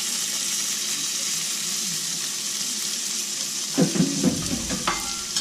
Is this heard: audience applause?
no